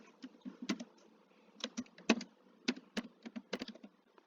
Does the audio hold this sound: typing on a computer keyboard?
yes